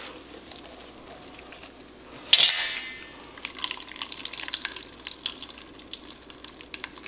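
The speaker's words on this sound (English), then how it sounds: "We're going to squeeze whatever liquids are still left in there" Soaked wheat being squeezed by hand for kibbeh, giving a brief wet splash of dripping liquid followed by a softer, steady trickle and squelch at close range, with no talk.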